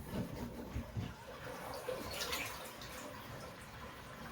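A water-filled plunger works a clogged toilet, giving muffled watery sloshing and gurgling pushes close by, with a brief louder splash partway through over a steady background.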